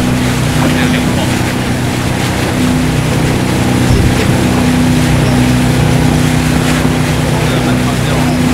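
A loud motorboat engine drones steadily through the whole stretch on a night crossing, its low hum constant amid wind and water noise, with voices faintly mixed in.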